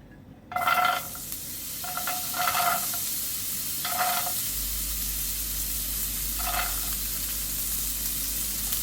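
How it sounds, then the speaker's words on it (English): Butternut squash pieces dropped into oil in a pan on low heat, a few bursts of sizzling as they hit and are stirred, then a steady quiet fry with a low hum underneath, no voices. "We go in with our butternut squash."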